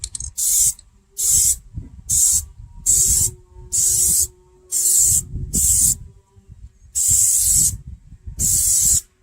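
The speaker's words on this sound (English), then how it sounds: "we're going to be ready to throw a coat of Plasti dip on here" Plasti Dip coating is sprayed from an aerosol can onto Mustang car rims in ten close, loud hissing bursts of about half a second each, separated by short pauses.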